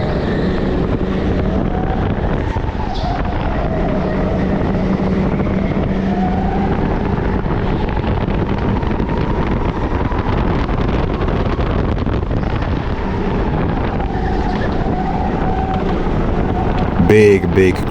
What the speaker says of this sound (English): Big crash here